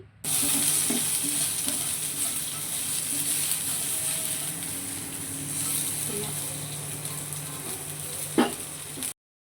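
A large cut onion fries in leftover oil in a pan while a mushroom curry is prepared, giving a steady, close, continuous sizzle with a single sharp clink near the end.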